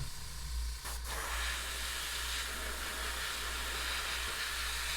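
Airbrush spraying paint onto a Sons of Behemat miniature, a steady close hiss running unbroken with a brief dip near the start, no talking.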